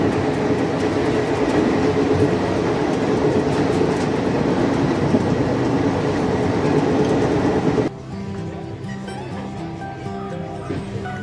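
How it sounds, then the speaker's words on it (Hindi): A passenger train on the Darbhanga–Saharsa line pulls away, heard from on board. A loud, steady rumble and rattling clatter carry on for about eight seconds, then drop abruptly to a quieter hum with a faint whine. "1 मिनट के होल्ड के बाद ये ट्रेन यहाँ से चल देती है।"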